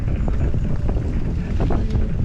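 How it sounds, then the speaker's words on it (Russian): Strong winds buffet the microphone on a cold Crimean coast, a steady loud roar of wind noise throughout with no speech. "и ветра просто адские"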